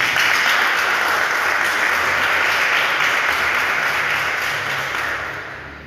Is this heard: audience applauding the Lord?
yes